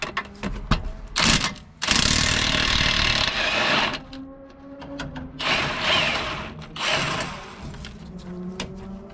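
Pneumatic impact wrench hammering on a steering linkage bolt of a Jeep TJ, loud rattling bursts of a few seconds each, starting and stopping several times with short pauses and clanks between.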